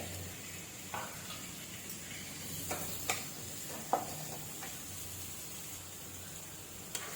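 Mushroom kurma masala being sautéed and stirred in a pan, a soft steady sizzle broken by a few light scraping stirs and clicks of the spoon against the pan, close and unhurried with no talking.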